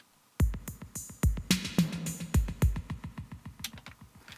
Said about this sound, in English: One is a ping-pong delay in 16th notes.